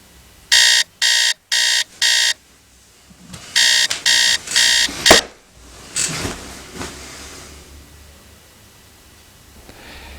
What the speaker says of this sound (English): he has to wake up on a workday with the alarm clock